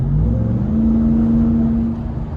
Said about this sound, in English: This truck, this truck really just gets up to speed a lot faster than its baby brother over there.